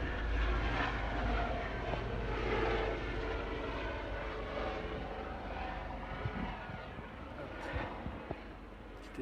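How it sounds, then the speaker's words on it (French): A small helicopter passes overhead outdoors, its engine a steady distant drone with a soft rumble that fills the whole stretch, slightly louder early on and fading later, with faint voices around. "Petit hélicoptère."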